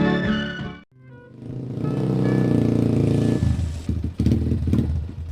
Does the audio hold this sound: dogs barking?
no